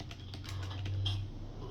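Quick keystrokes on a computer keyboard, ending with a press of the enter key, heard as a short run of soft close clicks over a low steady hum.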